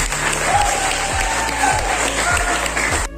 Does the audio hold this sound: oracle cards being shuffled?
no